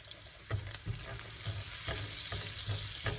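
Rib eye steak fries in a new pan with golden-browned garlic, giving a steady close sizzle with periodic spatters and soft clatters as it is stirred, and no talking.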